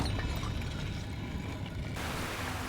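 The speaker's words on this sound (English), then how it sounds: "And now I feel like this fountain of water gonna add more water." Water pours steadily from a fountain in Uncharted: Drake's Fortune, a continuous full rushing splash that shifts slightly in tone partway through, with no voices over it.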